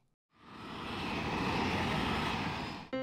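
An animated airplane in a children's 3D cartoon flies past with a smooth engine roar that swells in after a brief silence, holds steady and loud, then cuts off abruptly.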